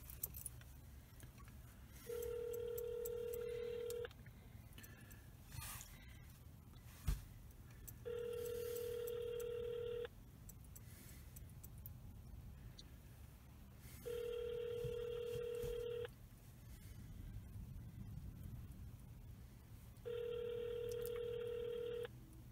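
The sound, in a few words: telephone dialing and ringing on a call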